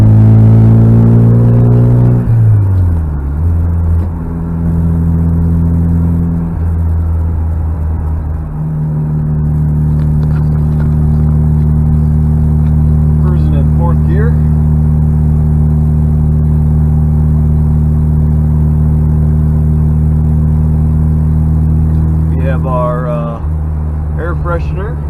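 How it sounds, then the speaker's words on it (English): A 1999 Mitsubishi Eclipse GS-T Spyder with a turbocharged engine and a blow-off valve makes a loud, steady, close-up engine drone, with a couple of brief hissing bursts late on. "It's got a good sounding blow-off valve on it."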